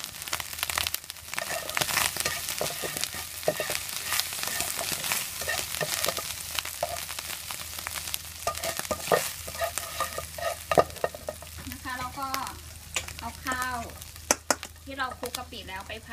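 Rice stir-fried with shrimp paste and dried shrimp, a dense continuous sizzle with constant scraping and clattering of a spatula against the pan, close and busy throughout.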